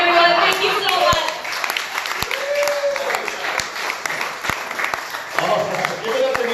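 Comedy show crowd in Benicia applauding a comedian: sustained dense clapping from a small audience, loud at first and easing, with a host's voice speaking over it and a few sharper individual claps standing out.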